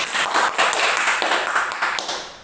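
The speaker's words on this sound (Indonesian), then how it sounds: "Tepuk tangan untuk kita semua" A group claps at a community training session on stunting prevention, a brief burst of hand claps that tapers off over a couple of seconds.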